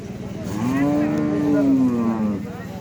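A bull at a busy cattle market lets out one loud, drawn-out moo lasting nearly two seconds, rising then falling in pitch, with faint crowd murmur behind it.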